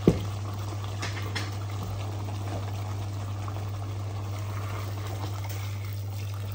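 Water added to a pot of beef saluna, an Arabic stew, as a steady pouring and bubbling wash over a constant low hum, with a brief clunk at the start and no talking.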